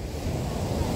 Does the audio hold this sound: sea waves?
yes